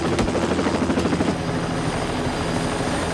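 A helicopter in the 1978 film Superman throbs with a steady rotor chop, loud and sustained, which then settles into a continuous engine drone, with no talk over it.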